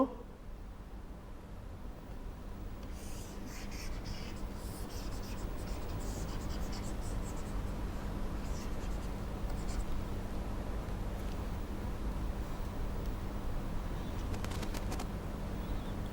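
Questions being written out by hand produce a steady, continuous scratch of pen on paper, close and fairly even throughout, with a light background hiss.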